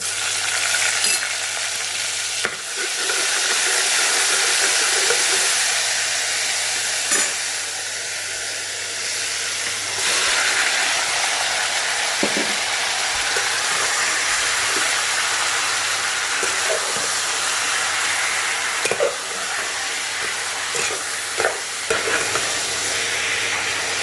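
Ginger garlic paste sizzles in hot oil for a Mughlai mutton curry, a loud continuous frying hiss with occasional stirring scrapes and clinks, no talking.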